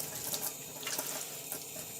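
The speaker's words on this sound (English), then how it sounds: "we need to wash our hands for 20 seconds with" Warm tap water runs steadily into a sink while hands are washed before cooking, a faint continuous splashing with soft irregular spatters, heard alone.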